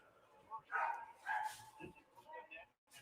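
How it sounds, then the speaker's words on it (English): A neighbour's dog barks in a few faint, distant bursts, heard beneath someone talking quietly. "that's the dog. The dog's by the neighbors barking."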